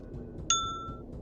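One clear, bright bell ding from the video game Myst rings out and decays smoothly over about half a second against a quiet background.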